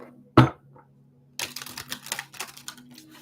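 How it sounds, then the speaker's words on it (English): A deck of tarot cards is handled close up: one sharp tap, a pause, then a rapid run of crisp papery riffling clicks. "One more shuffle here."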